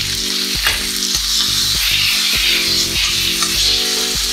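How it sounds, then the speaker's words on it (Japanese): Napolitan pasta ingredients stir-fried with ketchup in a frying pan to build browning, giving a loud, steady sizzle with repeated scraping stir strokes about every half second, close up and without talk. "ここでもしっかりと炒めて焦げ目をつけていきたいと思います。"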